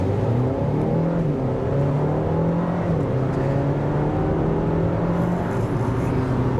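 A 2023 Dodge Hornet GT SUV accelerates from 0 to 60 mph, its engine note climbing steadily through the gears as a loud, continuous hum and whir heard from inside the cabin.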